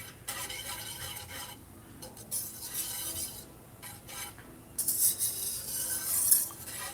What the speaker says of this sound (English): I am going to stop stirring for a minute until it starts simmering